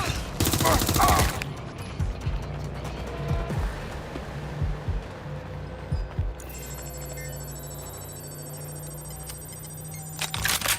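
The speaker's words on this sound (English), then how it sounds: "Taking fire!" Gunfire rings out in the video game Watch Dogs: Legion: loud bursts of shots and rapid volleys mixed with game sound effects and electronic tones across the passage.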